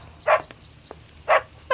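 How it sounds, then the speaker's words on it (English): In a radio drama, a dog gives two sharp, close barks about a second apart, with a third starting at the end, over a quiet low hum. "Jim, thanks for bringing the dog back."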